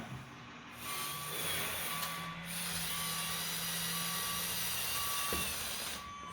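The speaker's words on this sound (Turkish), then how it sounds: "Bip bip çıkıyor geri getirirken." A LEGO Technic 42114 6x6 Volvo articulated hauler emits a regular series of short electronic reversing beeps while backing up, evenly spaced over a motor whir, close and moderately loud.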